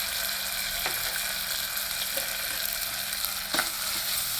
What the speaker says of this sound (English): Reduce the flame and again stir it so that the masala doesn't get burnt.